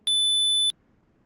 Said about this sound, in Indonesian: buzzer itu berfungsi untuk memberitahu secara fisik